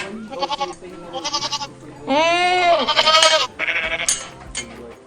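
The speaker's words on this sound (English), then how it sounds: "Nubian goat." A Nubian goat bleats in several loud, wavering calls with short gaps between them, close to the listener, with no other sounds around it.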